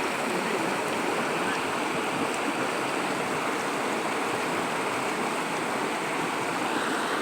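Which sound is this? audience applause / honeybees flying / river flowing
river flowing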